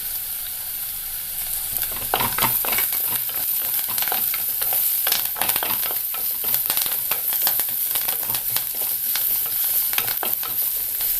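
Thinly sliced onion and curry leaves frying in oil for a dried shrimp and mango curry, giving a steady close sizzle dotted with crackling pops and stirring scrapes throughout.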